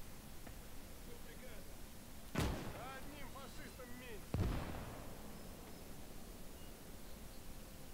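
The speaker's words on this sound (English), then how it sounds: "Good, anti-aircraft guns up and firing." Two sharp reports from World War II anti-aircraft guns in the strategy game Gates of Hell, about two seconds apart, over a steady hiss of battlefield noise with a faint voice between them.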